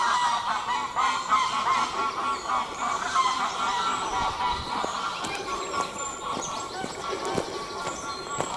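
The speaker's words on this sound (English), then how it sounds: "Ducks flying in." Ducks flying in at dawn in Belvoir Forest, Belfast, give loud overlapping honking calls throughout, with the wider woodland dawn chorus and a voice speaking around them.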